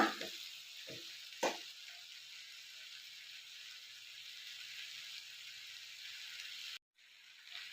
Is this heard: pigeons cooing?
no